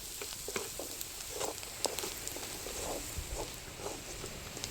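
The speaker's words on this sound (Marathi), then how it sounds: "तेल घालून आपण हे चटणी ते टाकलेली हे मसाला सगळा ह्याच्यामध्ये परतून घ्यायचं" Spice masala and chutney sautéing in oil for a rustic roasted eggplant bharit, a faint steady sizzle with light scattered crackles and occasional soft stirring taps.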